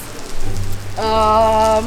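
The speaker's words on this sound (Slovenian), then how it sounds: "Ful dežuje, kot vidite" Heavy rain makes a soft, steady hiss on a rainy drive toward Turin. A low rumble sits under it, and a loud, sustained tonal drone takes over halfway through.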